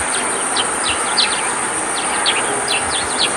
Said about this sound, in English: Follow the calls of over 300 bird species